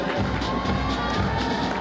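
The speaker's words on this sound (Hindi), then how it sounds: "जोरदार तालियों से जवानों का हौसला बुलंद करें" A crowd at a Sikkim Police President's Colour award ceremony applauds and cheers the police platoons, a brief, dense burst of clapping and shouts.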